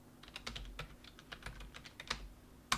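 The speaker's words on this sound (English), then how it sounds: "Type in the password." Quiet, close tapping of keys on a computer keyboard as a password is typed, roughly a dozen irregular clicks in a quick run ending with a firmer keystroke, likely the enter key.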